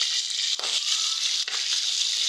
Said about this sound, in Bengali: তেলটা গরম হয়েছে, মাছগুলো দিয়ে লাড়া চাড়া দিয়ে বাইজে মাছগুলো আমি আলাদা উঠাই রাখবো